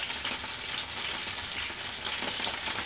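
Cauliflower fries in a hot pan with a constant, dense sizzle and crackle, steady and close throughout with no talking.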